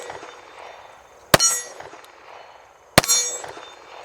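Two shots from a Kimber 1911 pistol strike steel targets, each a sharp crack followed by a bright metallic ring that fades, spaced about a second and a half apart.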